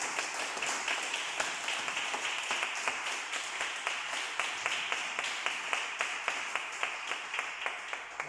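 A church congregation at Sunday morning service claps together, the steady, fairly rhythmic applause continuing evenly throughout, moderately loud and close.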